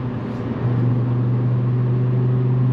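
An Audi R8 5.2 V10 R-tronic engine while driving, a steady loud low drone with a sustained tonal hum that settles in after a brief shift, heard from inside the car with no talking.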